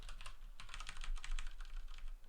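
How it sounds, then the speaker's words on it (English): Fast, steady typing on a mechanical keyboard, with close, crisp clicks of individual keys flowing in quick bursts over a low background hum. "the keys sound nice because it's a mechanical keyboard"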